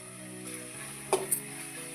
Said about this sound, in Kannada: ಹಿಂಗೆ ಚೆಂದಾಗ ಇನ್ನೂ ಸ್ವಲ್ಪ ಎಣ್ಣೆಗೆ ಬೇಯಿಸ್ಕೊಳ್ಳೋದ್ರಿ.